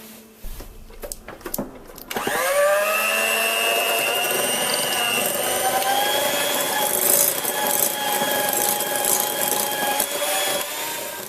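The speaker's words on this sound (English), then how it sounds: "Now beat this with an electric beater until it's light and creamy" After a few brief knocks and clatters, a handheld electric beater switches on to cream butter with brown sugar for a baked treat, settling into a steady high motor whine with grinding rasp that continues close and loud.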